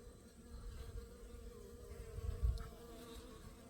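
Honeybees buzz around a hive during the fall die-off, a faint continuous insect drone with a slightly louder pass midway, heard alone without talk.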